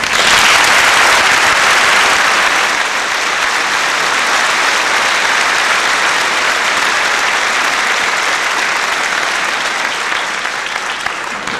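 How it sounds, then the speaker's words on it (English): Sustained applause from a school Christmas concert audience, loud and dense throughout, easing slightly after the first couple of seconds but continuing steadily to the end with no talk over it. "give them a hand of applause"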